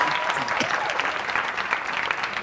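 A campus audience claps in a dense, continuous round of applause that stays fairly loud and even, with faint voices mixed underneath.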